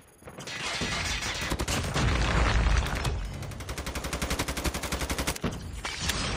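M4 rifle fire in Call of Duty comes in loud rapid automatic bursts, with a long rattling string of evenly spaced shots near the end before a short pause and more firing.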